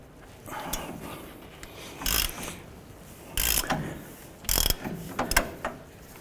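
A ball joint tool clamp on a 2007-17 Jeep Wrangler being loosened, heard as several separate bursts of ratcheting clicks with pauses between them, close and fairly loud.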